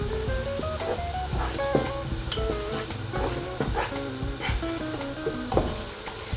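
Chicken biryani is stirred in a sizzling pan, with steady frying crackle beneath repeated scraping and clinking of a spoon against the metal, close and moderately loud, with no one talking.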